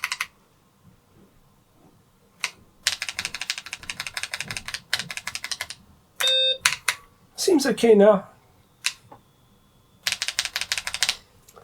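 Keys clatter on a BBC Model B computer keyboard in bursts of rapid typing, with pauses, a few single clicks and a short spoken remark in between.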